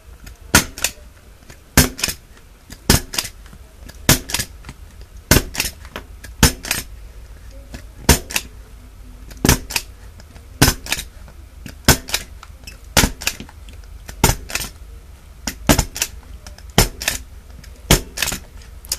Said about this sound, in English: I'm just going to run my stapler right down there and staple